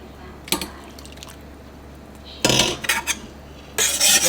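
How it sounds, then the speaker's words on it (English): Starchy pasta water is poured into heavy cream in a pan for a steak tortellini sauce. Three short bursts of splashing and clinking pan sound are separated by quiet, close and moderately loud. "Now we're going to add a little bit of this pasta water."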